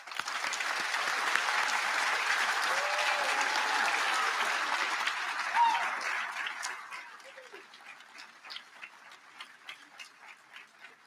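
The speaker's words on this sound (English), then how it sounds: "Let's start off with a big round of applause to all of our graduates." Sustained applause from a commencement audience honoring spring 2024 graduates, a dense steady wash of clapping that thins out after about six seconds into scattered, fading individual claps.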